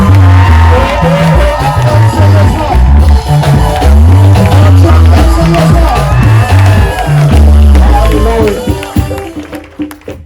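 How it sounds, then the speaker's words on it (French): A church congregation cheers and acclaims its evangelist pastor, loud crowd shouts and whoops over thumping music and babble, sustained and close before fading near the end. "Et sur les acclamations, honorer l'homme de Dieu, notre évangéliste pasteur, notre pasteur."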